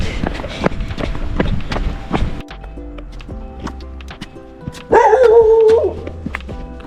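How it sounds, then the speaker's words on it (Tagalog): Near a village at night in Maui, Hawaii, a dog gives a few loud, sharp barks over footsteps and a low background hum, then a louder drawn-out yelping cry. "May aso."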